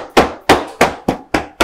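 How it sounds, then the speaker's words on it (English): Someone strikes the sides of a tilted SNOO bassinet to loosen its screws, giving six sharp, evenly spaced whacks about a third of a second apart, loud and close. "You can hit the sides to help loosen up the screws."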